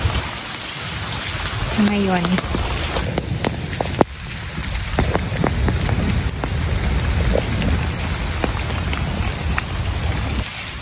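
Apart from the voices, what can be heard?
rain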